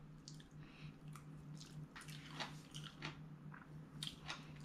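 Close-up chewing of freshly cooked fried rice, soft wet squishy bites with light crunchy clicks repeating steadily, faint and with no talk.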